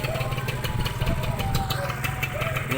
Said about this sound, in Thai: ฟังเสียงกันหน่อยนะครับ รถเครื่องดีเลยนะ